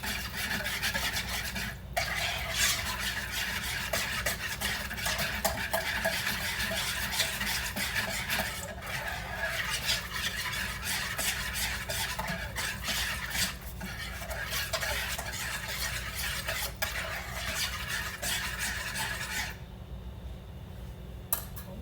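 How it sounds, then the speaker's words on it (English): Wet ingredients for focaccia dough are whisked briskly in a bowl, a continuous rapid scraping and clinking that keeps up nearly the whole time and then stops abruptly near the end, with no talking. "what I like to do is basically whisk this all together"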